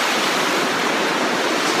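Amicalola Falls, a 729-foot waterfall in a Georgia state park, roars as a dense, steady wash of rushing water, loud and close with no pauses and no voices.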